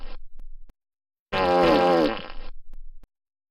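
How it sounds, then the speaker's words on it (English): A comedic fart sound effect in an Italian GameCube intro parody, one long loud wet blast of about a second, framed by short rumbling bursts before and after. "All they did was break wind. That means they farted."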